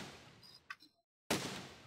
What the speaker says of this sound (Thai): ปืนใหญ่ยิ่ง